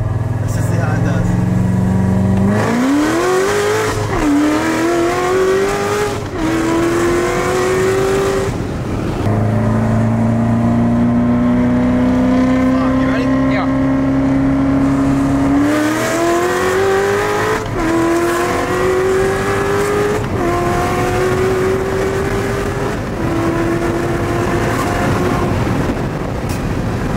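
An 800 hp Corvette Z06 on drag radials launches hard with traction control off, its engine roaring loudly and climbing through several gear shifts, close and sustained, with voices talking over it.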